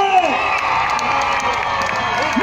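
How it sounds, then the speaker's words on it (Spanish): A crowd at a merengue contest in Champotón cheers, whoops and shouts loudly for a Mexican musician, with children's voices and some clapping in a dense, continuous roar. "Y ahora, el aplauso a mi músico mexicano."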